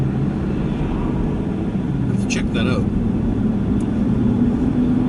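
A pickup-style truck cruises along the road on a scrap-metal run, with a steady low rumble and road noise throughout while someone talks briefly over it.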